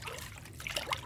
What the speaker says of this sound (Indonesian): Kapas filternya kita rendam di air seperti ini